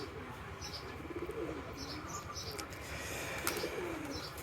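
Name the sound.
pigeons cooing on a pigeon farm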